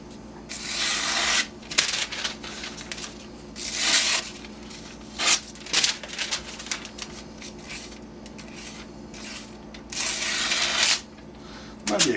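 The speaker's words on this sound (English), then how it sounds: "still cutting phone book paper" Knife blade of 52100 steel slicing through phone book paper, a series of dry rasping, tearing strokes in separate bursts with quiet pauses between cuts, close and crisp.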